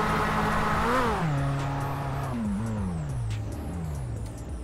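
Corvette C8 racing in GTA 5, its engine note sweeping up and down through gear shifts with a loud, steady drone, plus high chirping game effects overhead and no talk.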